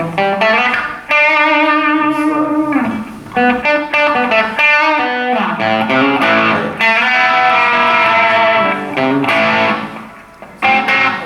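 Electric guitar through an overdrive pedal plays bluesy phrases with warm, moderately saturated tone, a mix of held notes and quick licks, loud and close with no voices.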